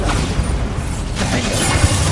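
Bombarda blasting-spell explosions in the Hogwarts Legacy video game, a dense, continuous roar of loud blasts and crashing debris with a sharp burst near the end, no clear pauses between impacts.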